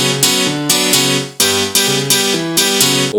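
Layered phonk beat with a normal piano and a clicking piano, the clicking part spread in stereo, repeating chords struck in a steady rhythm with sharp attacks, loud and close with no talking.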